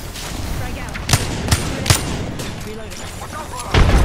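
Gunfire from an Apex Legends match crackles in sharp separate bursts, several loud reports in a few seconds with a heavier boom at the end, amid busy game noise.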